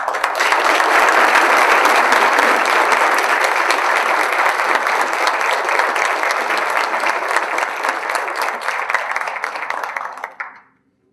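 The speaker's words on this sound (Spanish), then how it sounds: "Para todos ellos brindamos un fuerte aplauso." Conference audience giving a loud, sustained round of applause for police officers and firefighters, dense clapping throughout that fades out abruptly near the end.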